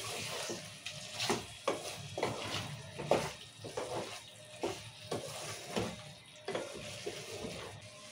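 Rice-dish ingredients fry in oil in a pot and are stirred again after five minutes of cooking. Rhythmic scraping stirring strokes repeat over a steady bright sizzle, close and moderately loud.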